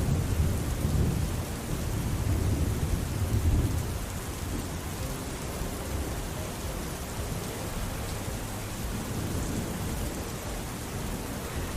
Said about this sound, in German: Dann regnet es eines Tages.